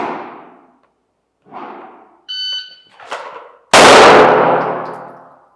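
A single handgun shot fired after a draw during shooting practice: a short electronic beep, then one loud, sharp report with a long ringing decay. Soft scuffing sounds come before it.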